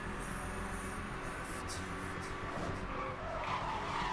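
A car drifting in the racing game Need for Speed Hot Pursuit: a steady, loud tire skid and squeal over a droning engine, sustained without a break and with no talking.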